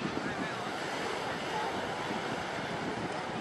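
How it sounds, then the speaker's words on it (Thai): High tsunami waves striking the Thailand shore in 2004, heard as a continuous broad roar of surf and water, steady and dense throughout, with wind noise across the microphone. "ตีกลับนะครับเป็นคลื่นก็สูงครับ"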